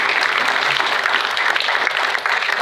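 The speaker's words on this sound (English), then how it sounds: "I mean, come on, one more round of applause." Steady, dense applause from an audience at a military retirement ceremony, loud and sustained for the whole stretch with no break.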